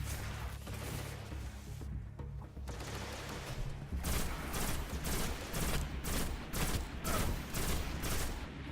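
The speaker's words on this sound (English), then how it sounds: "with the sniper rifle, aim for a headshot as it does an awful lot of damage" Gunfire from a sniper rifle in the video game Destiny, a rapid run of loud shots and bursts over steady game noise, carrying on through most of the stretch without talk.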